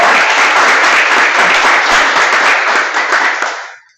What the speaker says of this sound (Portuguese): Palmas para a nossa voz hoje.